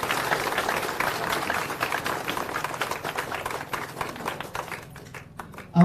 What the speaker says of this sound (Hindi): आप लोग जोरदार ताली बजाकर सभी पदयात्रियों का स्वागत करें